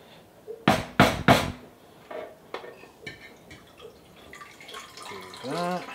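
Developer liquid poured out of a plastic film developing tank for black and white film: a few loud knocks, then gurgling, splashing liquid and drips running into a basin nearby.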